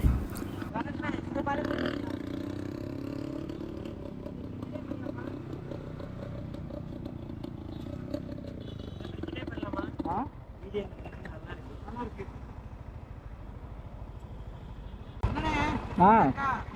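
A modified Yamaha RX 100 motorcycle with its silencer baffle removed runs with a loud, throaty engine rumble, which then drops back as voices talk over it.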